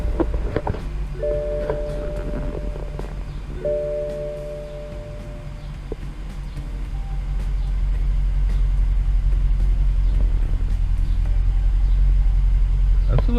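BMW 650i Gran Coupe engine idling roughly while parked before reaching operating temperature, a low rumble that swells louder over the second half, with a couple of short electronic chime tones early on and light talk.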